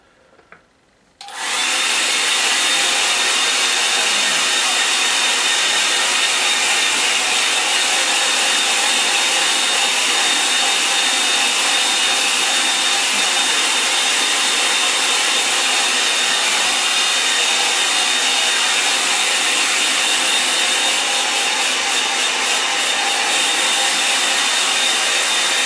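A hair dryer blows on a watercolour painting of a windswept Norfolk coast, a loud steady roaring whoosh that switches on after a quiet second and runs without a break, close to the microphone and with no voices.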